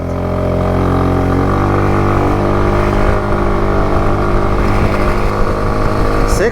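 SYM Cruisym Alpha 300 scooter accelerating hard from a standing start in a race, a loud, close engine drone rising steadily in pitch with wind rush.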